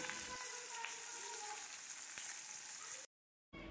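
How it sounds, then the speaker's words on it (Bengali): Fish frying in a wok gives a loud, close, continuous sizzle and crackle that breaks off into brief silence before resuming, with no speech. "এখানে মাছ ভাজা চলছে।"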